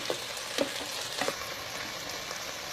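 Ingredients for Tamil-style anchovy fish curry sautéing in a pan, a steady close sizzle with a few sharp stir-scrape clicks near the start and middle.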